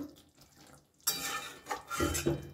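A utensil scrapes and clatters in a cooking pan while fried chhena fritters are stirred into a sauce, with a short run of close, loud metallic stirring and sizzling after a quieter start.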